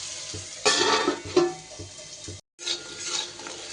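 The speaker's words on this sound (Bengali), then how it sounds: "এবার আলুগুলো একটু লো ফ্লেমে মানে একটু ঢাকা দিয়ে দিয়ে সুন্দর করে ভেজে নেব" Small diced potatoes with salt and turmeric fry over low flame in a covered pan, soft sizzling broken by a few scraping stirs and clatters and a brief silent gap.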